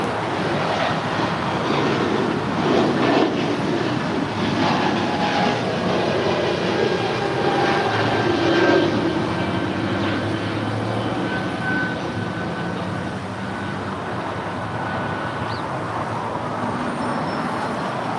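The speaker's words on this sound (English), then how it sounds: "Eva Air, that 777 now making that turn into the gates there at Tom Bradley" An Eva Air Boeing 777 taxis into the gates at Tom Bradley terminal at LAX, a steady, distant jet engine rumble and hiss holding at an even level with faint airport background noise.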